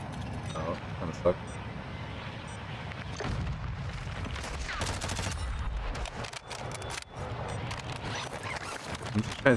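Gunshots and bursts of automatic fire in Warzone DMZ, crackling and popping at varying distances around a castle, heard under steady conversation among teammates.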